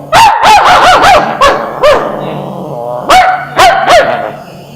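Several dogs bark loudly and close in quick bursts, a tight cluster of sharp barks followed by a pause and two more near barks, with no talking.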